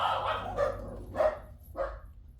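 A dog barks three times in short, spaced bursts, fairly close and clear against a quiet background.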